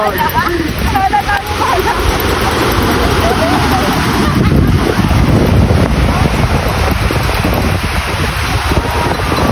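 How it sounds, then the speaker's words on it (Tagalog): Sea waves and strong wind at a beach in La Union, a continuous loud roar of surf buffeted by wind noise on the microphone, with no clear talk. "Dagat na kami dito."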